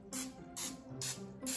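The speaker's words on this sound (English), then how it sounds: "spray that with a tiny bit of cooking spray" Four short hissing bursts of cooking spray are misted over dough rolls, each about a third of a second, evenly spaced and close.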